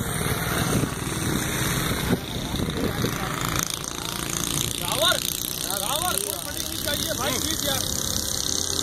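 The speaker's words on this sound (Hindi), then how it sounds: "देखिए बाइक है 70 इस रोड पे चल रही है" A motorcycle engine runs steadily while riding along a road, a constant near drone with wind noise throughout, with people talking and shouting over it.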